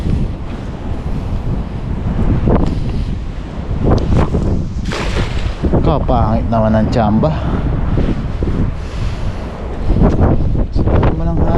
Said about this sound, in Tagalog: Saka naman ang hangin.